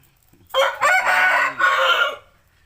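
A rooster crows loudly and close, one long drawn-out call, with a few faint chicken sounds just before it.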